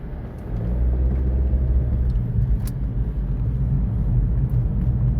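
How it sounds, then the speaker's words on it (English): Steady low rumble of road noise inside a moving car, a constant engine and tire drone with no talking. "And I apologize for any road noise."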